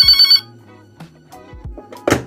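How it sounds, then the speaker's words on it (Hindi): An IVR call-centre machine places an outgoing call, and a loud, close electronic telephone ring sounds briefly. Quieter clicks and tones follow, then a short burst of noise. "ये जो है कॉल करने की कोशिश करने लगा, कौन, हमारा टेलीफोन"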